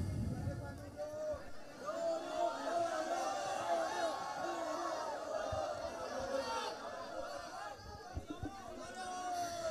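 Students in a heated debate hall make a noisy, boisterous crowd of overlapping chatter and shouts, a steady hubbub of many voices through the whole stretch, with one louder voice standing out near the start.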